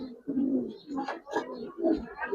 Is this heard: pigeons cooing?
yes